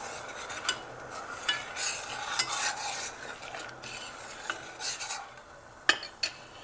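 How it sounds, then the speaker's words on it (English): A spoon stirs sugar syrup in a pot as it comes to a boil for gulab jamun, giving soft scraping swirls with light sizzling and occasional clinks of utensil against the pan, close and steady throughout. "My syrup is coming to a boil, and I just want to give it a stir so that all this sugar melts."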